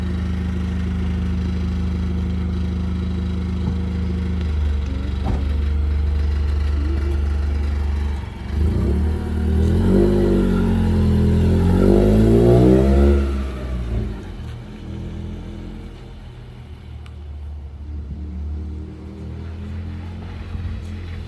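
A Honda CRX with a new clutch drives and accelerates, its engine droning steadily before rising in a short revving surge mid-clip, then settling back to a quieter idle-like hum, close and loud.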